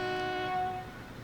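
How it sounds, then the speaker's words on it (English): Steady, sustained train horns in the Transport Fever railway simulation game, several tones blending into one loud chord that fades slightly toward the end. "You can all stop honking."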